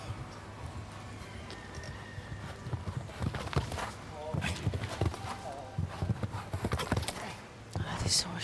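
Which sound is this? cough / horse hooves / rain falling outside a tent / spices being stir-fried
horse hooves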